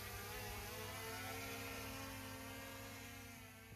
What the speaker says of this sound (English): When taking off, you can hear how the drone's propellers are having to work much harder by the change in sound.